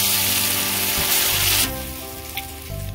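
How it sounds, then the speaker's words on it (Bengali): More bata fish sizzling in hot oil in a wok, a loud crackle that drops abruptly to a quieter simmer partway through, with faint clinks near the end. "বাকি মাছগুলো ভেজে নেব।"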